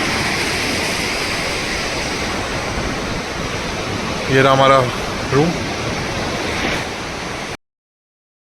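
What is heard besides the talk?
river flowing nearby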